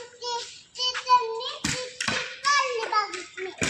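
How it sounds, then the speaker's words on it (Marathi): Two sharp hand claps ring out close by in the middle, among children talking and calling out during an early-morning game at home. "टीचर टाळी वाजवतात."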